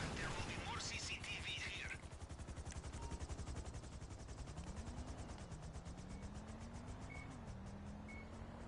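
Rapid gunfire from GTA Online shooting down security cameras on a building exterior: a quick burst of shots, then a fast regular rattle over engine-like game noise, with a voice talking over it.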